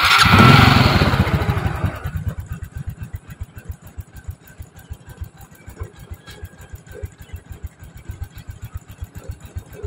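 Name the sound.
Honda Revo fuel-injected motorcycle engine starting and idling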